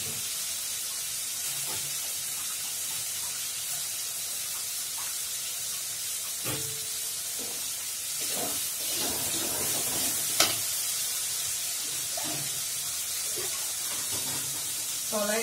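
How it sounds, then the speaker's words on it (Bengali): Spice paste of chilli powder frying in a pan for matar paneer hisses and sizzles steadily as a little water is poured in, with crackling spits and a sharp pop near the middle, while a voice speaks over it. "কলাই লেগে যাচ্ছে তাই একটু সামান্য জল দিচ্ছি, মশলাটা ভালো লেগে যাবে"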